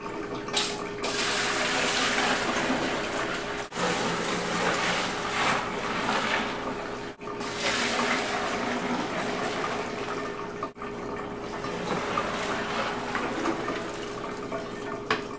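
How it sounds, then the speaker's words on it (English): A batch of pale ale wort poured back and forth between a stock pot and a primary fermentation bucket, a steady, continuous splashing rush of liquid close by, broken by brief pauses between pours. "pour the batch between our stock pot and our primary fermentation bucket to work air into the batch"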